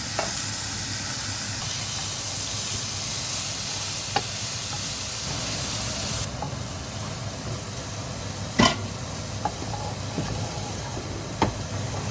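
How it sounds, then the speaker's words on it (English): Peas and coriander sautéing in a pan for a vegan samosa filling give a soft, steady sizzle and hiss, with a few sharp clicks of a spoon against the pan. "We're going to add all of it in and keep sauteing it"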